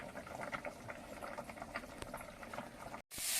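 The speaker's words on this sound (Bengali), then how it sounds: "পাশে পুঁই শাক, কচু, আলু তরকারিটা ফুটে উঠেছে" A pot of curry with potatoes, taro and Malabar spinach bubbles at a steady boil, dense popping and gurgling close by, cut off abruptly near the end before a brief burst of noise.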